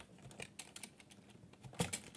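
Fingers type a command on a computer keyboard in a Linux terminal, a quiet, uneven run of close, crisp key clicks with a louder cluster near the end.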